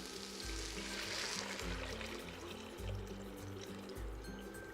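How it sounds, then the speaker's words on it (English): Water pours steadily in a continuous splashing stream, about 8 cups filling a soup pot, with a low rhythmic pulsing underneath throughout. "we're going to go ahead and put our water in."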